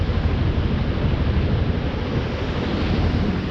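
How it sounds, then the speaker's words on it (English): Rushing water pours steadily into a canal lock on the Crinan Canal, a dense, continuous roar that stays loud and even throughout, with no voices. "They're just letting the water into the gate now"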